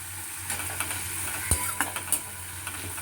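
Grated fresh tomato goes into a Bengali rui fish curry (rasa) frying in the pan, giving a steady close sizzle broken by several sharp stirring scrapes and clinks, with no talking.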